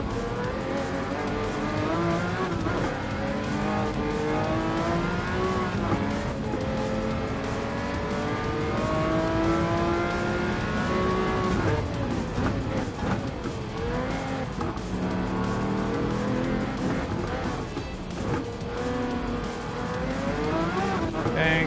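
Race cars roar around a circuit in Gran Turismo 7, engines droning loud and continuous with rising and falling revs as they shift gears, with brief tire squeals, no talking over it.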